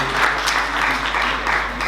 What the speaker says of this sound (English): So give our applause to Plamen.